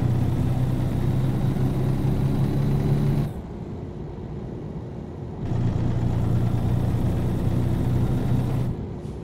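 Default engine sound of a Western Star 49X truck in American Truck Simulator, a steady low idling rumble that drops quieter for a couple of seconds mid-way, then returns at full level before easing off near the end.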